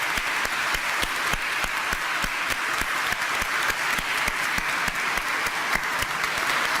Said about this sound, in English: let's all join in a round of applause as recognition for these wonderful